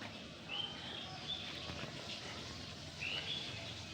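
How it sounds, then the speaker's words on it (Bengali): Birds chirping near a house: a few faint, short, high chirps spaced apart over a quiet outdoor background, no talk. "ওই যে পাখি সবসময় এখানে কিচিরমিচির করতে থাকে"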